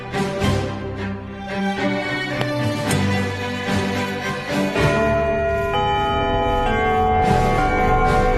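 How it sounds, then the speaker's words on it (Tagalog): A school bell rings before an exam in a classroom, sounding as a series of sustained, ringing metallic tones that overlap and decay over several seconds, moderately loud with no talking. "Hintayin nyo muna yung bell bago nyo sagutan."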